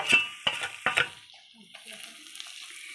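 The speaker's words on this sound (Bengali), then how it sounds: "আদা জিরা পেস্ট করা ছিল সেটা দিয়ে দিয়েছে মশলাটা।" Ginger-cumin spice paste spits and crackles in a hot wok, a few sharp sizzling bursts and clatters up front that fade into a quieter, fainter simmer.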